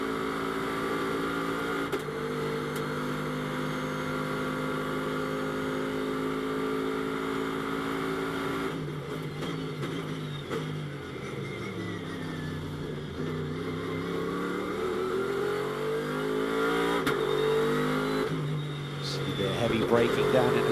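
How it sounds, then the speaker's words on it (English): A Bentley GT race car roars through an onboard qualifying lap at Las Vegas Motor Speedway, its engine note climbing and dropping through gear changes and braking zones, loud and continuous, while a commentator talks over it. "let's hop on board with the Bentley boy here, and you can get a feel for this entire lap"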